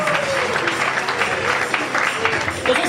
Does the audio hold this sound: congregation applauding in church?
yes